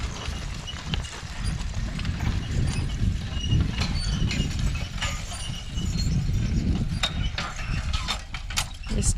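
Draft horses' hooves clop steadily alongside the creaking, clanking of a White Horse plow and rustling garden soil, close by and continuous, with no talking.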